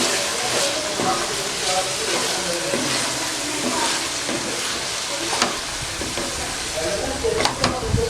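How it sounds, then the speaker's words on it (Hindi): Boiled dal frying in a pan with fried tomato and spices for karela chana dal, stirred as it cooks: a steady, close sizzle with scraping and clinks throughout. "अब ये हमारी दाल बिल्कुल भून चुकी है।"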